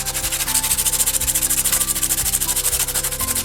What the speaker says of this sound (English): And you just take some sandpaper